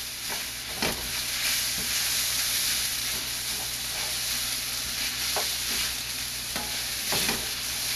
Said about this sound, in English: And stir them in.